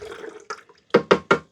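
A whole bottle of white vinegar is poured into the reservoir of a Keurig K-Duo Essentials coffee maker, with liquid sloshing in and three loud rhythmic glugs from the bottle near the end.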